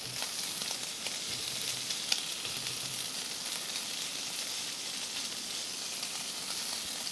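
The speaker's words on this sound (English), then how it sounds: "There's something about sizzling bacon that just hits home to your stomach." Bacon frying in a pan over a campfire, sizzling in a steady dense crackle with small pops throughout, close and alone without voices.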